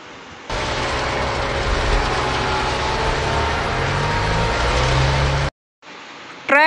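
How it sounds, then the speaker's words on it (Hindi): A toy or model train runs with a continuous droning rumble and faint clatter, steady and fairly loud for about five seconds before cutting off abruptly, followed by a brief sweeping tone. "ट्रेन, इसको हम रेल भी बोल सकते हैं।"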